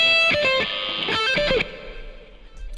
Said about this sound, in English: That's what happens when you use that much distortion on a single coil.